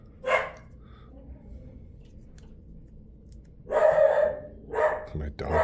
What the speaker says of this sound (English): My dogs are going crazy up there.